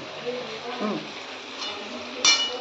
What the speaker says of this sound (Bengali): এই পেস্টটা এখন এটার মধ্যে আমি ঢেলে দিলাম, দিয়ে এটা দিয়ে খানিকক্ষণ নাড়বো।